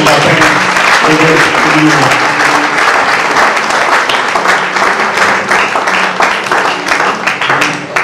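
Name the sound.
audience applauding loudly to honour a pastor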